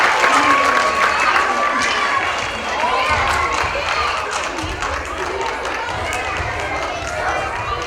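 A school assembly audience of families and classmates applauds third graders, a dense wash of clapping with some cheering and shuffling feet that stays steady and fairly loud throughout, with voices mixed into the crowd.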